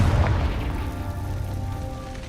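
The Confringo fire spell in the Hogwarts Legacy video game goes off as a single loud, deep boom right at the start, then its rumble slowly fades over the next two seconds.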